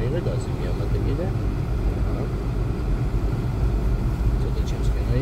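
Car engine revving up under acceleration during a city driving lesson, a steady low rumble with road noise throughout, loud and close, with an instructor talking over it.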